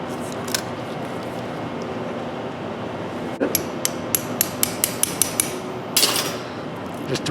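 Self-tapping screws being tapped into an anterior cervical plate, heard as a series of sharp, evenly spaced metallic taps, close and fairly faint, followed by a short rattling scrape of instruments.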